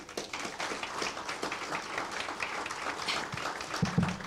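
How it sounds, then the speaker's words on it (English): Applause from an audience at a national convention on ecosystem and civic education, a fairly quiet, steady patter of clapping lasting the whole stretch with faint background murmur. "Let's clap for them."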